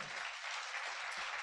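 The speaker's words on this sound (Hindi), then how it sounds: "जरा सी ताली बजा दीजिए" An audience at a Hindi poetry recital claps in a steady, dense patter, soft and distant throughout the brief moment.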